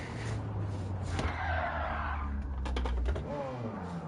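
A car in a racing video game skids and squeals its tires through a braking zone, with the engine droning underneath and a faint click of keys in the room.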